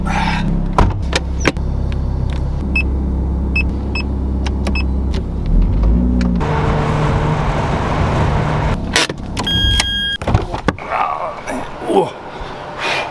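A car engine rumbles as the car pulls slowly into a small garage, with clicks, a door-like thump and someone speaking briefly.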